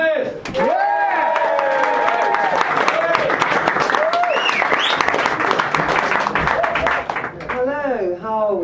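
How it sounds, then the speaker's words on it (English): A crowd claps and cheers for a performer taking the stage, loud and close, with an amplified voice calling out over the applause and whoops rising and falling throughout. "Big round of applause, please, for Jennifer Smith"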